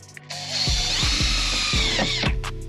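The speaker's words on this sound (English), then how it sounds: "Beauty of using self-tappers is obviously you're drilling a pilot hole" A power drill whirs up loudly and bores a pilot hole for a self-tapping screw, its motor pitch dipping in several short, rhythmic surges before it winds down.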